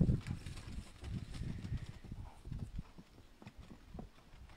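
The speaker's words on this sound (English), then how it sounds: "You may be hearing the horses and the dogs in the background" Faint, rhythmic clip-clop of hooves as horses walk at a slow pace, a little distant, in an otherwise quiet outdoor setting.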